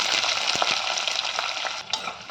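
Onions fry in a pan with lentils, cumin and mustard seeds, giving a loud, continuous sizzle close by, broken by a few light clicks of a spoon stirring against the pan.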